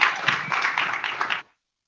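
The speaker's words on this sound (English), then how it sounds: "If we can give her one more round of applause." A crowd at a startup demo day applauding a pitch presenter, a brief dense burst of clapping that stops abruptly after about a second and a half.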